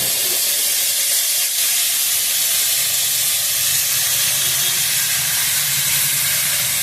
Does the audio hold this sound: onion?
yes